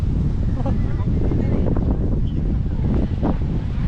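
Steady, heavy wind in Sri Lanka buffeting the microphone, a constant low roar throughout with no letup.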